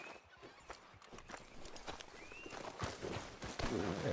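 Hooves clip-clop steadily as a horse walks in Red Dead Redemption 2, a close, even gait under a bed of outdoor ambience that grows a bit busier toward the end.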